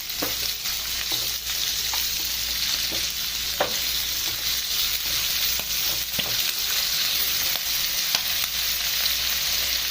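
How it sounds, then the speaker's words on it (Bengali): Chicken liver frying lightly in chicken fat, a steady close sizzle with occasional sharp clicks and scrapes from stirring, continuous and even throughout, with no voices. "তো প্রথমে এটা হালকা করে ভেজে নিতে হবে।"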